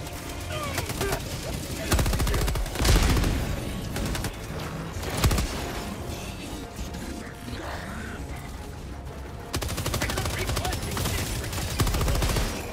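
Gunfire in the video game Helldivers 2: bursts of rapid shots and heavy blasts, close and loud, recurring across the stretch and mixed with game noise and background voices.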